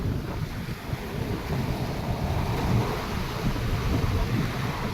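Sea waves wash over rocks at Sribas beach in Shankarpur, a steady, dense rush of surf close by, mixed with wind buffeting the microphone and no breaks in the roar.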